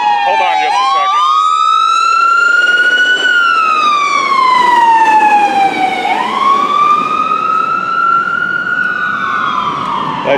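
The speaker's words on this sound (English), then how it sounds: "That should be a siren for emergencies here at Haley." A loud emergency siren at Haley sweeps steadily up and down in long wailing cycles, rising and falling continuously throughout with rich harmonics, heard close and alone without talk.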